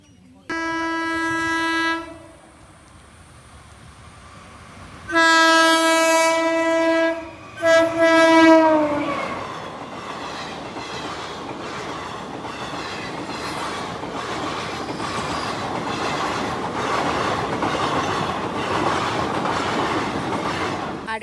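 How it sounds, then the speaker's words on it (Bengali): A train sounds its horn at a railway level crossing, two long loud blasts with a short gap between them, then rolls past with a steady rumble and wheel clatter that carries on to the end. "ট্রেন কোন দিক দিয়ে জানি হর্ন দিচ্ছে"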